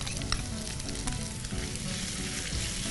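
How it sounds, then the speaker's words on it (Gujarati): Finely chopped onion sautéing in a pan after ginger, chilli and garlic for paneer masala, a dense continuous sizzle and crackle, close and steady, with faint stirring scrapes and no talking. "એક નંગ ઝીણી સમારેલી ડુંગળી લઈએ છે, એને સાતડીએ છે"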